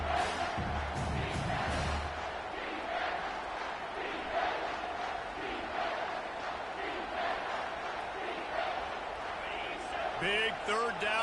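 A football stadium crowd roars behind the defense on a big third down, a broad, steady wash of cheering filling the whole stretch with a commentator talking over it.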